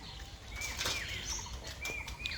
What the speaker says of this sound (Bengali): এবার পায়রাটা রিলিজ করবে